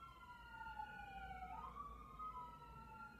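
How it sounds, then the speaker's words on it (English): Wailing emergency sirens sweep up and down in pitch, heard from a distance over a low, steady background rumble. "Oh, we have sirens."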